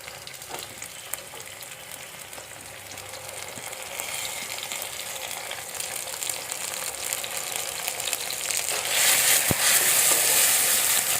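Tomatoes sizzle in a pan while being sautéed for Chinese-style Maggi noodles, a steady hiss that grows louder and fuller toward the end, with occasional scraping of the spoon and no talk.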